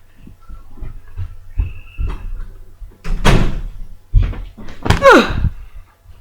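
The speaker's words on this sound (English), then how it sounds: "I need to go shut the door" A door in a house is pushed shut, heard as a few thuds and knocks building to a solid close with a sliding scrape, fairly near and loud, without speech.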